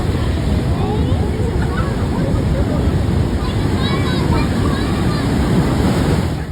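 Rolling ocean waves at Bali Point wash in a continuous loud roar of surf, with wind buffeting the microphone throughout.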